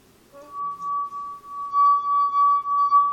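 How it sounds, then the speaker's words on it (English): A wet fingertip circles the rim of a drinking glass, drawing out a pure, steady ringing tone that swells and pulses rhythmically as the finger travels around, close and fairly loud. "it's the vibrations in the glass from you rubbing your finger across it"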